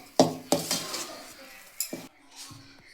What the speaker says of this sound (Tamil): அது வரை ஒரு நாலு கிண்டு கிண்டிக்கலாம்